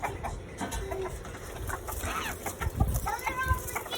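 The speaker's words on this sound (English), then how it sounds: "Let your chickens out." Chickens being let out of their coop cluck close by in short, scattered bursts, with people talking over and between the calls.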